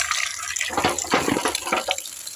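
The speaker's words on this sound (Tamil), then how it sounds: "குழா தண்ணி திறந்து விட்டுடலாம்" Tap water runs into a pot in a home kitchen, a steady splashing gush heard up close with no voices over it.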